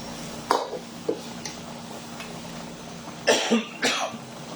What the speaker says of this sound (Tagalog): Inubo ko.